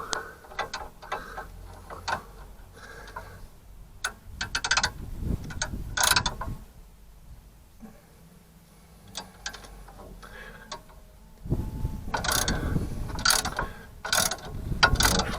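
Ratcheting spring compressor clamps being slowly released on a Land Rover Discovery 2 during a Terrafirma 2-inch lift kit fitting, close clicking and ratchet turns in two longer bursts separated by quieter pauses.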